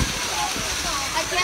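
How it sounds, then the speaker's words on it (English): Zoo waterfall pouring steadily, a continuous broadband rush close by that fills the short moment with no break. "How can you not love waterfalls?"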